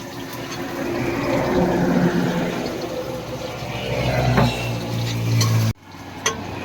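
Garlic frying in a pan on a roadside truck-trip stove, a steady sizzle with stirring scrapes that swells midway, then cuts off abruptly near the end before a brief clatter.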